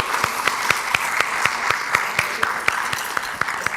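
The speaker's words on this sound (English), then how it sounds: "So let's give her a big round of applause." Applause at a school board of education meeting honoring a student singer, with a few sharp, rhythmic claps standing out near the front over a steady background of clapping from the room.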